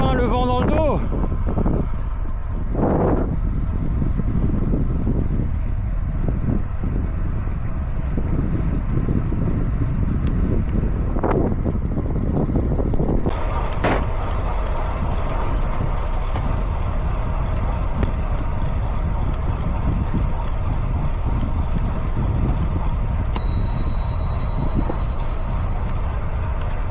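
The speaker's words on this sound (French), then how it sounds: "on a enfin le vent dans le dos." Steady, loud wind buffeting a microphone during a bikepacking ride home, a constant roar with a few brief bumps and gusts throughout and no voice heard.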